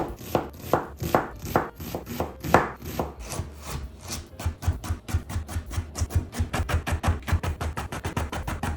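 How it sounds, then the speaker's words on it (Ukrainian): A knife cubes potatoes on a cutting board, slower uneven strokes at first, then a fast, steady rapid series of crisp taps, close and clear with no speech. "Картоплю нарізаємо невеличкими кубиками"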